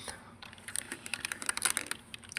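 Someone types quickly on a computer keyboard and ends with a firmer press of the Enter key. The clicks come close and clear in a quiet room.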